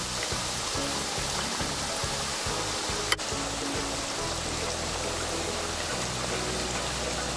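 Gram flour batter drops for kara boondi deep-fry in hot oil, making a dense, even sizzle that hisses steadily and closely from start to finish with no talking.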